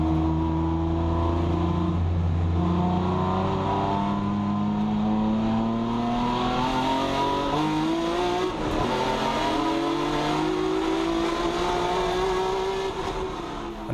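Race car engines roar at a grassroots motor race, one near and loud, with rising and falling revving tones as cars accelerate, shift gears and pass, continuous throughout.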